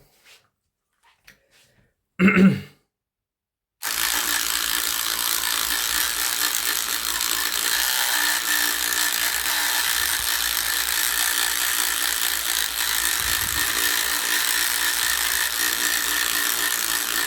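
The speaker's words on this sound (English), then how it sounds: "I would really like to see the sonic scrubber go at this thing" A sonic scrubber, a powered cleaning brush, works over WWE toy action figures. A few faint clicks and a short burst come first, then a steady, loud, broadband buzzing scrub runs without a break from about four seconds on.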